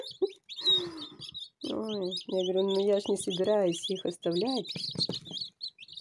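Freshly hatched chicks from an incubator give high, rapid peeping chirps throughout, close by, while someone talks over them at length.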